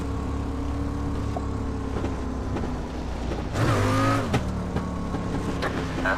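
Street stock race cars in the iRacing game, at USA Speedway, hold a steady, loud engine drone throughout, with a rising rev and a brief tire squeal partway through, and no one talking.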